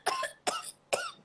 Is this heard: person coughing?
yes